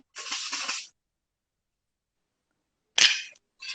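Two bursts of hairspray hiss, the first about a second long, then a pause and a shorter burst, with a third starting at the end.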